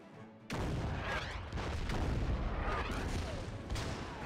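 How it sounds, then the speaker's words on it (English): Artillery bombardment in the wartime strategy game Order of Battle: Blitzkrieg, set around Le Havre during the fall of France: a sudden loud onset of booming shell impacts rumbling continuously, with repeated heavy blasts rolling over one another. "Artillery bombarding ours."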